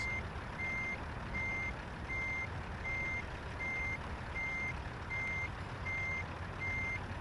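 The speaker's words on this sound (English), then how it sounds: "I want to keep that truck going backwards." A truck's backup alarm beeps in a steady, evenly spaced rhythm over a low continuous engine rumble, at moderate distance.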